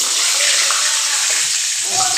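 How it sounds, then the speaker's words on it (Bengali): Potatoes frying in hot oil in a kadai give off a steady, loud, hissing sizzle that runs unbroken from start to finish. "এই দেখো কড়াইতে বসিয়ে দিয়েছি, তেল বসিয়ে দিয়েছি। এবার আলুগুলো ছেড়ে দেবো"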